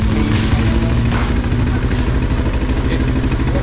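A CFMoto Lite 250 motorcycle engine drones loud and steady as heard from the rider's seat, with a rough, throbbing clatter and no pause.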